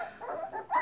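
Three-week-old Newfoundland Pyrenees puppies whimper in a short, faint burst of high whines up close, with no talking.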